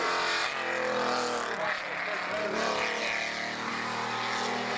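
Alpha GT2 rally car at the start of a timed special stage in the Moissac event, its engine revving loud and close and holding steady throughout, with a voice talking over it.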